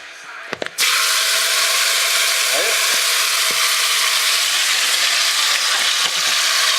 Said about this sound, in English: when the oil is hot, get your tomatoes, add them to your